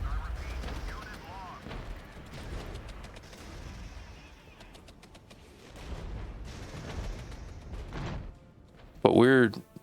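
Incoming fire in a war strategy video game, with booming artillery-like blasts and gunshots scattered at moderate distance, talk running over them, and a sharp louder burst near the end.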